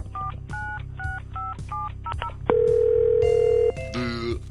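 Telephone being dialed to place a call: a rapid series of short touch-tone beeps, then a long steady tone and a final burst of higher beeps, all close and clear.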